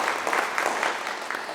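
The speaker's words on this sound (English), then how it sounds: "So let's give a big round of applause." A literature festival audience claps in a brief, steady burst of applause, moderately loud and evenly spread across the hall without a voice over it.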